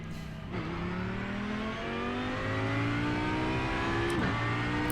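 Audi GT3 race car in the iRacing sim revs up in rising sweeps, dropping briefly at each shift before climbing again, loud and steady with no voices.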